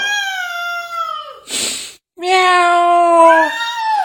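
A cat meows in drawn-out, wavering cries, first one long meow, then a brief breathy burst, then another extended meow, close by.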